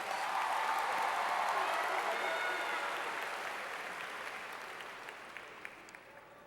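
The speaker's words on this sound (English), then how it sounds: "let's give them a round of applause for that" Sustained applause from parents and guests at a high school graduation ceremony, honoring students' scholarship offers; a broad, dense wash of clapping that gradually fades over several seconds, with a few scattered claps near the end.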